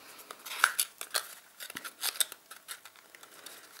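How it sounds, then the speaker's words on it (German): A punch board cutting a semicircle through several layers of paper for an envelope box, heard as close, quiet, irregular crunching and snipping clicks with a few sharper metallic snaps. "ich hier den Halbkreis ausstanze. Das ist ein bisschen schwer gegangen, weil ich ja gleich durch mehrere Schichten muss."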